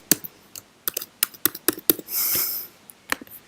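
A password typed on a computer keyboard: a quick run of separate, close key taps in an irregular rhythm, broken by a short burst of broader noise, then a couple more taps at the end.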